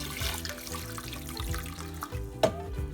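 Pepper cooking water pours into a simmering sauce for Camarones a la Diabla, giving a close, bubbling, gurgling liquid sound with a small splash near the end, with no talking.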